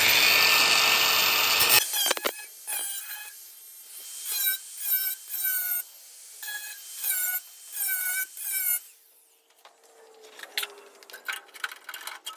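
Power tool cutting the outer skin panel out of a Holden HJ wagon door, heard as a loud burst of high whining cutting followed by a series of short, evenly spaced grinding bursts, then quieter scraping and tapping.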